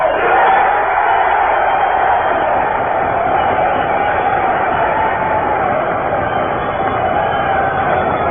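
Sustained applause and crowd noise from dinner guests at a 1944 Teamsters Union dinner, a dense, steady wash of clapping that fills the room at high level with no break throughout.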